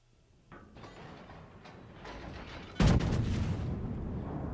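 Destroyer shells fire in a naval battle game: a run of sharp, close cannon reports builds to a loud boom about three seconds in, then a rumbling roar trails off.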